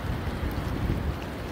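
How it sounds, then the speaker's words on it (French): A gust of wind roars steadily over a boat sailing from Gibraltar toward the Balearics as a storm approaches, a continuous low buffeting rush with no voices. "On a eu un coup de vent là."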